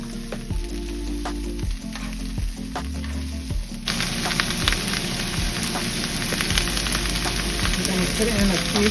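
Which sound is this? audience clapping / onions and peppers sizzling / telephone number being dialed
onions and peppers sizzling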